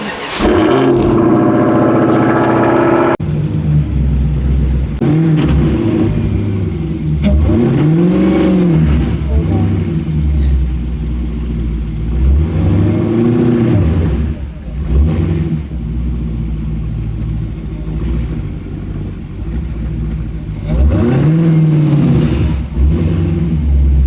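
A Dodge Hellcat stuck in snow without tire treatment roars and revs repeatedly as its wheels spin, loud rising-and-falling engine surges throughout, with some voice underneath.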